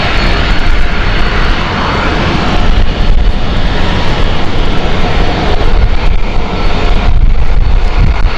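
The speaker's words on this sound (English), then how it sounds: "There's that push back 737 just taxiing" A Boeing 737 taxis at Amsterdam Schiphol Airport, its engines giving a loud, close, unbroken roar that holds steady throughout.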